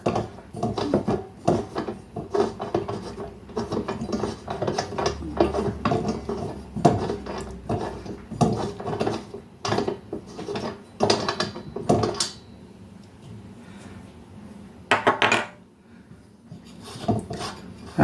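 Parts of a Tilley X246B paraffin lamp being unscrewed during restoration, close metallic clicks, ratcheting turns and small clanks in irregular bursts, with quieter pauses toward the end.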